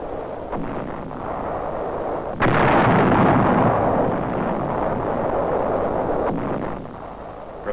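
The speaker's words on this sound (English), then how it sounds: "Nazi counter-battery fire." German counter-battery artillery fire during the WWII battle in the Netherlands, heavy rumbling blasts with a sudden loud burst that sustains into a long roaring wash, over windy, archival-sounding noise.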